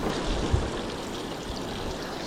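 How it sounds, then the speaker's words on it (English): Steady rushing, gurgling water pours continuously out of a kayak, close by, with no voices over it. "Just doing a casual water drain."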